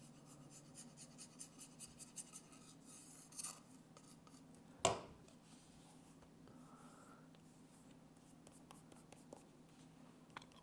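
A knife scraping an iPhone case: a run of quick, dry scraping strokes, then a sharper scratch and one loud scrape, followed by faint rubbing over a low steady hum.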